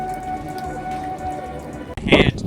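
Rain patters steadily on surfaces during a wet-weather visit in Vietnam, a constant soft hiss with scattered drips, then a louder burst of nearby noise near the end.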